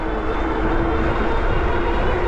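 Electric hub motor of an Engwe M20 e-bike under throttle, a steady close whine with a constant tone over rolling road noise, no speech.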